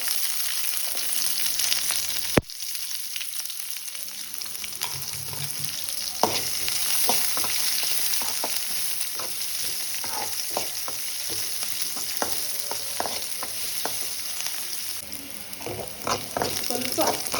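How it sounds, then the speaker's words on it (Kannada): Sliced onion and curry leaves fry in hot oil after mustard seeds have popped, a steady close sizzle with scattered crackles and spatula scrapes throughout. "ಸ್ವಲ್ಪ ಕಲರ್ ಚೇಂಜ್ ಆಗುವವರೆಗೆ ಫ್ರೈ ಮಾಡಿದ್ದೇನೆ"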